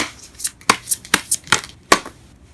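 Tarot cards are shuffled by hand in a series of quick, crisp riffling bursts, about eight close sharp flutters in an uneven rhythm with no talking.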